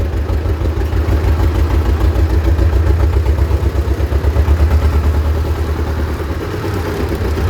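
A T16m tractor engine idles close by in a steady, loud, low rumble with a faint clattering pulse, no voices heard.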